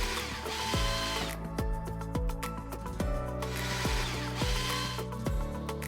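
A power drill works through wood while a wooden bird table roof is fixed in place, with repeated short bursts of whirring, each spinning up and winding down, close and steady over a background hum.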